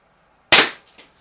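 A single sharp crack from a Crosman Silhouette SSP air pistol fired outdoors at a target, close and loud, with a short decay and a faint second knock just after.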